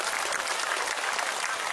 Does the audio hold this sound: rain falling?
no